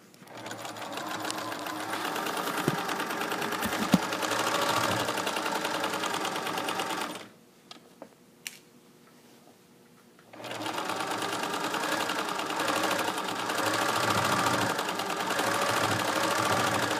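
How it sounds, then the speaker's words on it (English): A sewing machine runs in a fast, steady whir stitching a waistband casing, stops for a few seconds with small clicks, then resumes stitching at the same pace. "I'm listening to hear that the sewing machine is humming along the way it should."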